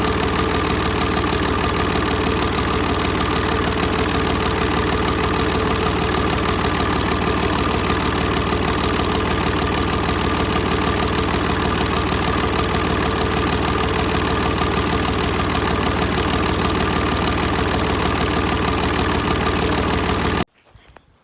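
A tractor engine runs steadily in first low gear while planting cabbage in rows with a homemade two-row planter, a loud continuous mid-low drone that cuts out abruptly near the end.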